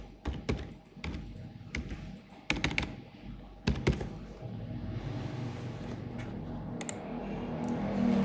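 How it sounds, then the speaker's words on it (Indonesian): Keyboard typing on a computer, with bursts of quick clicking keystrokes separated by pauses, fairly quiet and close, over a low steady background hum. "Kita ketik aja."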